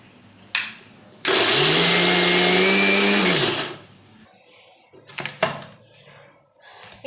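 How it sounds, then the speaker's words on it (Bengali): A kitchen mixer grinder roars for about two seconds while grinding green chilies into a paste, then winds down. Softer clicks and clatter of the jar and lid come before and after it, and no one speaks. "মিক্সিতে দিয়ে পেস্ট করে নেব।"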